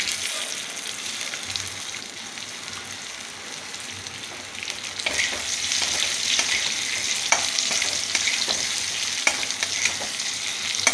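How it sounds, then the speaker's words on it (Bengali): Potatoes fry in a pan, making a continuous sizzle that grows louder partway through, with scraping and tapping as they are stirred. "দেখুন, এবার আমি আলুটা ভেজে নিচ্ছি।"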